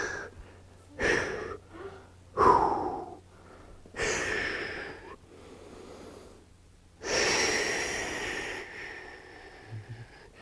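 Heavy breathing during a floor scorpion stretch in a live FlowFit workout session, with loud, close exhales and snorting breaths coming in uneven bursts separated by quieter pauses.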